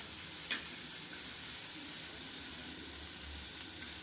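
Chopped papaya, carrot and beetroot hiss in a hot frying pan for vegetable chops, a steady close sizzle with one brief utensil clatter near the start.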